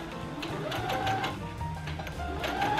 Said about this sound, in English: I went ahead and sewed it that way